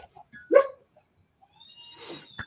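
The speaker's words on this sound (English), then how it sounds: "What are you barking at?" A dog gives a single short bark, close and fairly loud, followed by faint rustling and a brief sharp noise in an otherwise quiet room.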